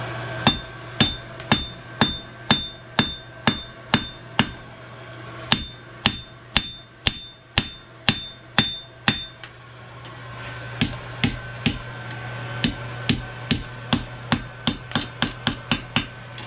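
A hammer forging a hot steel horseshoe on an anvil: a long, steady run of loud, ringing metallic strikes at a brisk even rhythm, with a brief pause midway and quicker blows toward the end, over a low workshop hum.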